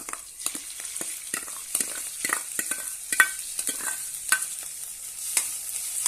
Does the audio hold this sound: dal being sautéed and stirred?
yes